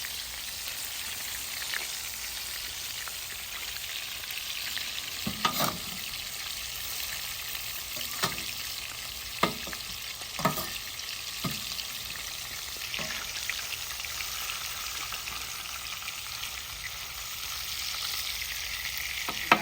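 Smash burger patties sizzle on a Weber kettle grill, a steady crackling fry broken by occasional sharp pops and spatters, with no voices.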